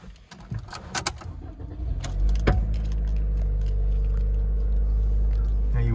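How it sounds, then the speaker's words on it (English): A 2020 Toyota Corolla Hatch Ascent Sport is switched on from the driver's seat. A few faint clicks and rustles come first, then the engine catches at about two seconds and settles into a steady, close, low idle hum. "Just turn the vehicle on."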